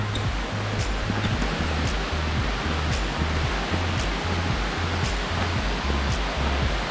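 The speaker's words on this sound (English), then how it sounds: "You can hear the waters." Hidlumane waterfall on the Kodachadri trek, near a checkpost, gives a steady, even rush of falling water, a broad continuous roar with no talk over it.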